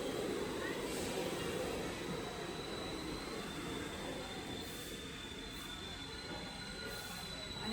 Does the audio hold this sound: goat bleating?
no